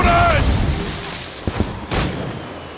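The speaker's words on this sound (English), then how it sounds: "Chevalier's using mortars to stop Shay!" Mortar fire booms out in the video game Assassin's Creed Rogue: a sharp close blast followed by a second heavy thump, with voices shouting over the battle noise.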